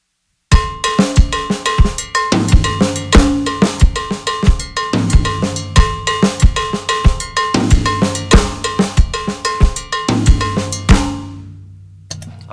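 A drum kit and cowbell play a Mozambique-style groove, each phrase opening with a flam. Sharp, close, bright cowbell strikes repeat in a syncopated cycle over kick and snare, then ring out and fade.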